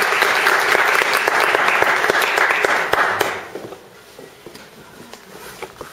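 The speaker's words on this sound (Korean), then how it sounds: "박수로 환영합니다." Audience clapping to welcome a speaker at a university law colloquium, dense and fairly loud for about three seconds before dying away to a few scattered claps and room noise.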